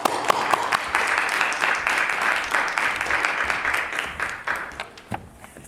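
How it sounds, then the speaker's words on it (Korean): Congregation at a seminary chapel service applauds to welcome a professor, a steady burst of many hands clapping that gradually thins and fades out at the end. "우리 교수님 나오실 때 우리 한번 박수로 환영하겠습니다"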